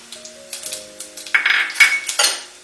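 Asafoetida and cumin drop into hot oil in a pan for a tempering while cooking palak paneer, with clinks of a metal spoon against the pan and soft sizzling bursts, heard alone without talk.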